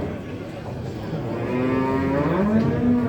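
An ox at a Mangit cattle market lets out a long, loud moo that rises and sustains over the crowd murmur of the market around it.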